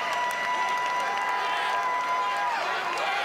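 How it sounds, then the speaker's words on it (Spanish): A lucha libre AAA wrestling crowd in Querétaro, Mexico applauds and cheers after a match, a broad, steady roar of clapping with a faint sustained tone and an announcer's voice mixed in. "un aplauso para ambas superestrellas"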